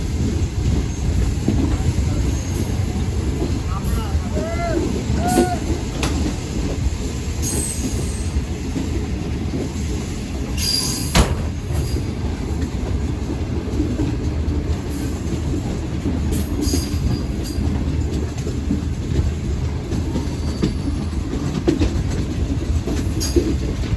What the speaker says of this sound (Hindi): गोजरा से हमारी ट्रेन गुजर रही है।